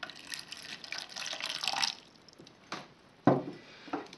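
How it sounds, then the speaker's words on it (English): Water poured into the bottom of a container for a mini battery-powered air cooler, a splashing, trickling pour for about two seconds followed by a few separate drips and splashes. "Add some water at the bottom."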